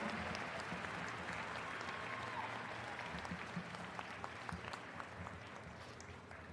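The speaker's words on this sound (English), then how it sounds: "I think you need to give yourselves a huge round of applause." Graduates at a university spring commencement applaud themselves, a broad, sustained roll of clapping from a large crowd that slowly fades toward the end.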